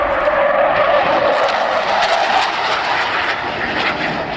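A military jet at an airshow, one of the Sea Vixen, Vampire or Vulcan, roars past in a loud, sustained broadband rush that holds for the whole stretch with no voices.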